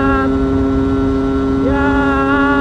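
A Yamaha F1ZR motorcycle engine held at high revs in fourth gear, a loud, steady, buzzing two-stroke drone with strong harmonics, heard close and continuous, with the pitch rising briefly near the end.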